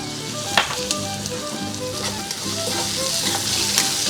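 Goat head kaldereta stew with tomatoes sizzles in a pan as a utensil stirs and scrapes through it, producing continuous frying crackle with soft periodic clinks up close.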